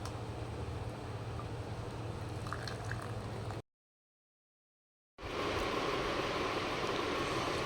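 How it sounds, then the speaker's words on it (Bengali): Tea boiling in a pot on a kitchen stove, a steady bubbling rumble that cuts out to silence for about a second and a half, then returns louder. "এটাও ফুটে গেছে, এবার চাটা নামিয়ে নেব।"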